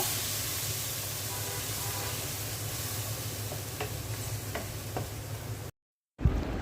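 Spices with salt and a splash of water are stir-fried in a pan, making an even sizzling hiss with a few soft stirring knocks before a brief dropout and a final clatter.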